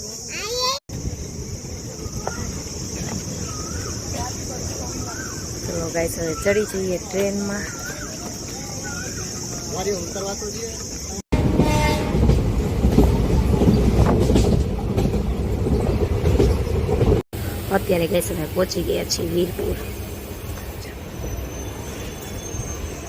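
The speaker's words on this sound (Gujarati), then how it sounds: "જો જયદ્રથ અમારી ટ્રેન આવી ગઈ છે" A train rolls in with rumbling wheels and high metallic squeals from the brakes and rails, while people talk nearby.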